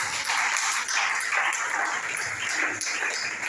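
A church congregation applauds and cheers during a French-language sermon, a dense, steady wash of clapping that fills the room for a few seconds without a break.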